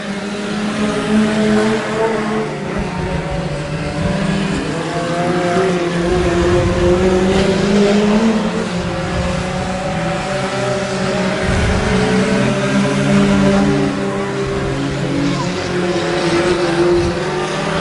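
Race cars roar around the track at Double X Speedway during an A main, engines droning and swelling continuously as cars pass, loud and sustained with no talk.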